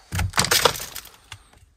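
Broken glass crunching underfoot inside an abandoned car dealership, a rapid series of gritty cracking crunches with scattered sharper snaps, loud and close, tapering off into a few faint steps.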